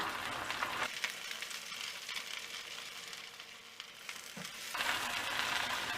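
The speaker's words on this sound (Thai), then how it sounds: "อีกด้านหนึ่งไม่ต้องทอดนานนะคะ แค่พอให้สุกเป็นสีเหลืองก็พอแล้วค่ะ" Hoi tod batter crisping on its second side in hot oil, a steady close sizzle that drops briefly and then swells again, with no voices.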